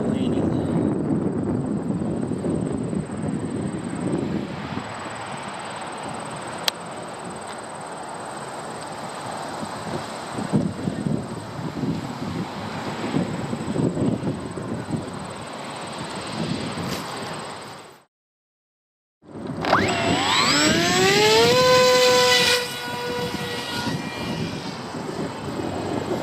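An HK KK2.0 radio-controlled aircraft with auto-leveling stability control flies with a constant buzzing motor whine, mixed with outdoor noise. It cuts out briefly, then returns with rising and falling pitch sweeps as it comes in to land.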